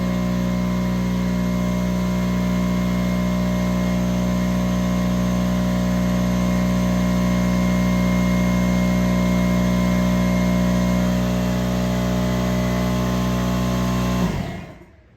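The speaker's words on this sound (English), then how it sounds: "Got the air compressor filling up" An air compressor runs in a steady loud hum with a constant mechanical drone while filling its tank, then shuts off abruptly near the end.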